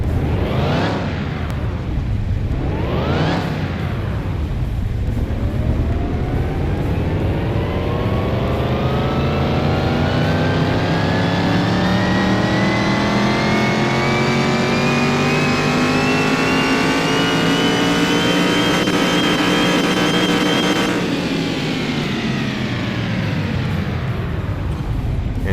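A car engine in Car Mechanic Simulator 2021 revs on a dyno with two quick blips, then climbs in one long, loud, rising sweep to a sustained high-rev roar before dropping off, with no talking.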